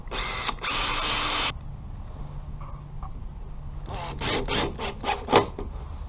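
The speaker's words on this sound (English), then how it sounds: "We'll go ahead and pre-drill all of our joints." A power drill pre-drilling wood joints for a bookshelf whirs in two close bursts, a short one then a longer run, followed by a series of rougher scraping and drilling pulses.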